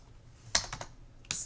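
Keys clatter on a computer keyboard while a spreadsheet formula is entered: a quick burst of clicks, a brief pause, then another cluster of taps, close and crisp in an otherwise quiet room.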